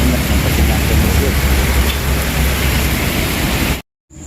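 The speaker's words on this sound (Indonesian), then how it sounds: "Hujan gede banget" Heavy rain makes a dense, loud, steady roar of broadband hiss that continues unbroken before cutting off abruptly near the end.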